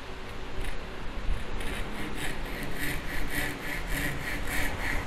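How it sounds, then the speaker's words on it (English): A compact Ryoba Japanese pull saw cuts a wooden tenon in quick, even back-and-forth rasping strokes, about two per second, close and clear with no talk. "It's so easy to use this saw."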